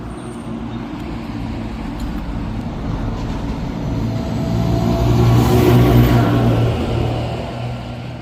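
A tractor rumbles across a bridge over the river Lot, its engine growing louder and heavier as it passes close by, then easing off again under a steady background noise.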